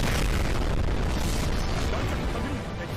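Warship main guns firing in a naval battle video game, a dense, continuous roaring boom of heavy cannon blasts filling the whole stretch, loud and sustained without distinct gaps.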